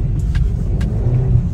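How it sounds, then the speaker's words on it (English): A Mazda 2 engine revs with a slipping clutch, a loud, close, steady low rumble that rises and falls slightly, with a couple of faint mechanical clicks and no talk. "it's just revving out."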